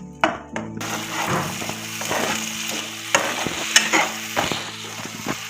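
Chopped tomatoes fry in a pan for palak paneer with a steady, close sizzle. A spatula stirs them and adds irregular scraping knocks throughout.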